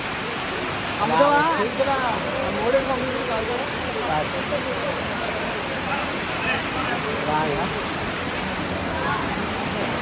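Steady broadband roar of Valasa waterfall, water pouring continuously and loud close by, with faint voices in the background under the rushing noise.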